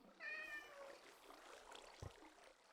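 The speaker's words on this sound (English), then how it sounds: "that's the cat you were hearing" A single Minecraft Russian blue cat lets out one clear meow near the start, fairly soft, followed by quieter background game sounds and a dull thump.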